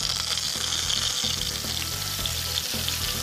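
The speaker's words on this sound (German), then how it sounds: "Schön braten." Croutons sizzle and fry steadily in hot olive oil in a pan, a dense, even crackle with light stirring clatter, close and alone.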